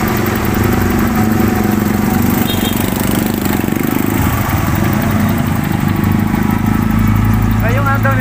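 Idling steadily at a used-car lot in Dasmariñas, Cavite, a secondhand car engine gives off a continuous mid-low hum, with some background voices over it.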